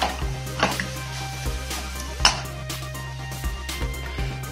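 Warm salad with fried seeds being stirred in a pan or bowl, with soft scraping and a few sharper clinks of a utensil against the dish over a low steady hum.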